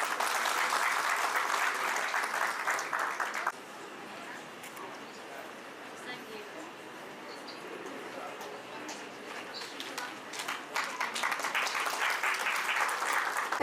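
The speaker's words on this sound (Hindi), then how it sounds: "जोरदार तालियों से स्वागत करें।" Audience applause welcoming a guest at an Indian academic event: loud steady clapping, a quieter stretch with voices and scattered claps, then the clapping swells again.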